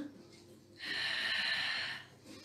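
One long, breathy exhale during a Pilates exercise, rising after a quiet start, holding for about a second and then fading, close to the microphone.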